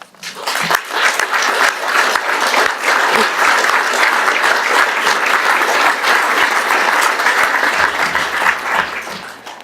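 A crowd at a Basingstoke borough council meeting applauds steadily, dense clapping sustained for several seconds before tapering off at the end.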